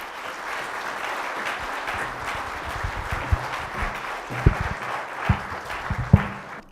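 Applause for a doctor at the close of a lecture at a judicial training event, a steady, dense clapping from a seated audience with a few sharper thumps and rustles near the end.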